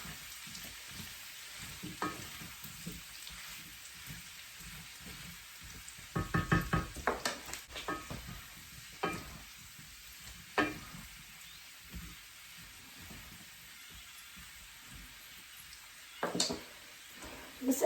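Food sizzles and crackles in a hot cast iron skillet, a steady close frying hiss broken by occasional louder stirring and scraping bursts.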